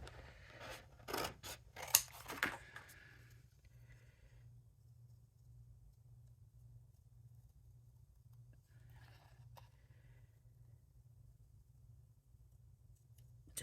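Scissors snip through card stock along score lines in a quiet craft room, a quick cluster of crisp cuts early on, then near-silence with faint handling noises.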